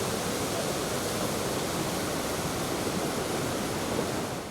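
A turbulent mountain river rushes past a riverside monument and chapel in Abkhazia after changing its course. The water gives a steady, dense roar that stays close and loud throughout, with no voices.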